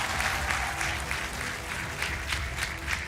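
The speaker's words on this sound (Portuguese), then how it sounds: "Um aplauso para o António Antunes, é o nosso campeão." A studio audience at the Portuguese TV quiz show Brainstorm claps steadily and fairly loudly for about three seconds, a dense, even patter with no talk over it.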